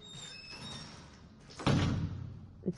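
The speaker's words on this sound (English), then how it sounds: "It squeaks, so I'll hear somebody." A wooden door in the Resident Evil Biohazard video game creaks and swings shut with a loud thud, followed by a short knock, close and clear with ambient game tones behind it.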